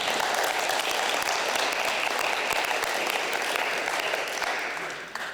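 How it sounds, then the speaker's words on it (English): Sustained applause from a crowd at an international school literacy event in northern Japan, steady and dense clapping throughout, fading slightly at the very end. "Let's give him a round of applause."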